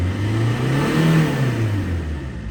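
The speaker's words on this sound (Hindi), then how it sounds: "अब ये जो है गाड़ी को मैं रेस कर रहा हूँ" A car engine is revved while a Thinktool smart scan reader shows live diagnostic data. It rises and falls in one smooth surge, loud and close, with no speech.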